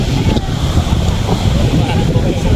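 Strong sea waves crash at a beach in a continuous loud roar of surf, with wind buffeting the microphone throughout.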